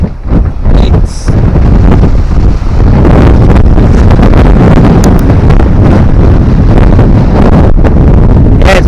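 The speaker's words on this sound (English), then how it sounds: "I'm not going to apologise for the wind at all." Strong wind buffets the microphone on the seashore during sea fishing, a loud continuous roar with gusting bursts and faint surf beneath.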